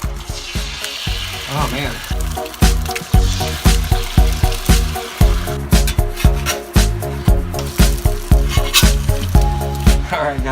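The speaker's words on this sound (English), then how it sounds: "I'm gonna do some bacon grease over here, and nothing better than some eggs in some bacon grease" Eggs fry in bacon grease on a Blackstone griddle with a loud, bubbling sizzle. Rhythmic scraping and tapping run through it, and a voice briefly exclaims partway through.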